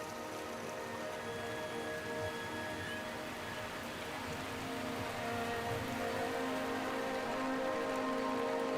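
Heavy rain falls in a Borneo rainforest, a steady, dense hiss of drops on leaves and ground that stays loud and even throughout, with faint tonal insect or animal calls beneath and no speech.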